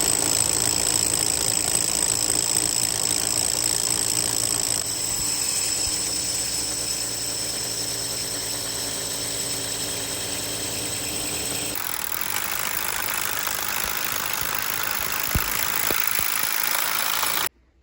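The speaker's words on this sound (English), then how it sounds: "We can now flick it over to hammer drill" A cordless hammer drill runs steadily through a wall while fitting an outside tap, a constant droning hammering with a shift in tone partway through, then cuts off abruptly near the end.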